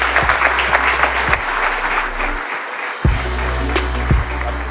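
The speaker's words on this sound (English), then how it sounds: "let me introduce a big round of applause, by the way, for my good friend, David Meltzer." Audience applause greets a speaker being introduced at the Rose Bowl Speakers Series: loud, dense clapping from a crowd, briefly dipping in the middle before swelling back, with low thumps underneath.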